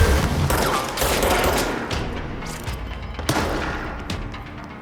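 Rapid shotgun blasts from an enemy in the video game Control, a dense run of loud booming gunfire over about five seconds with sharp peaks near the end, no talking.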